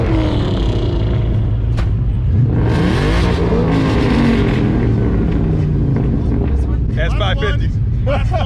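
Ford Mustang Foxbody engines start and rev at a gathering of cars, loud rumbling exhaust with rising throttle blips, mixed with people talking nearby.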